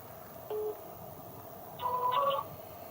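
A telephone left unanswered gives short, faint electronic tones: a brief single tone, a pause, then a longer warbling burst of tones, with no voice.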